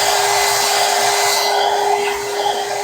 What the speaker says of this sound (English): sorry about my blow dryer